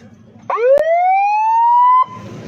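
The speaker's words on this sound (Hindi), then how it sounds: "सायरन चलाएंगे।" A police siren sweeps upward into a loud sustained wail for about a second and a half, with a sharp click near its start and background rumble around it.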